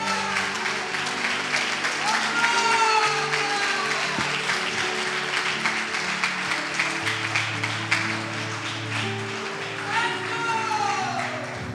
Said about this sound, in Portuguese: E as palmas aí para Jesus,